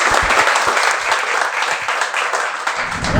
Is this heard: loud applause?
yes